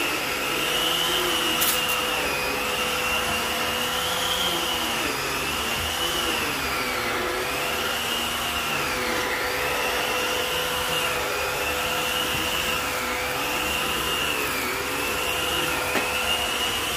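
A Filter Queen Majestic vacuum cleaner runs steadily and loudly on carpet, a continuous motor whine that rises and falls gently in pitch, with no voices over it.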